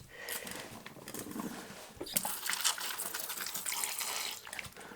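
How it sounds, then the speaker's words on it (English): A spray bottle mists water onto the substrate at one end of a Brachypelma klaasi tarantula enclosure. Close, hissing spritzes and pattering run almost continuously for several seconds in bursts of varying strength. "give a little spritz down one end so it's got some moisture through the substrate"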